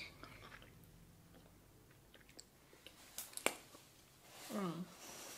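Sour bubblegum candy being chewed, with soft wet squishing and clicking mouth sounds close to the mic, interspersed with brief sharp snaps and faint voices toward the end.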